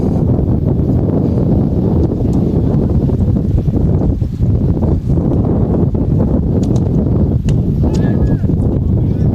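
Strong wind gusts buffet the microphone at an outdoor high school baseball game between the Raiders and Tri City United, a loud, steady rumbling roar that fills the whole stretch and swamps any other sound.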